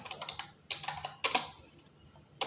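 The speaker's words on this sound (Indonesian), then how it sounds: "Jadi nanti kita ketik di sini download misalnya" Keys clacking on a computer keyboard in short bursts of quick strokes with brief pauses between, close and fairly quiet, with no voices.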